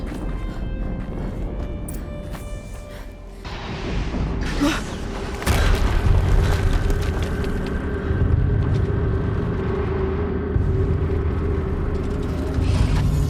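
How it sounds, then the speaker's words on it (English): Explosion in the action game Horizon Zero Dawn, a loud broadband boom swelling in around the middle and followed by sustained rumbling game noise with engine-like drone underneath. "Another explosion."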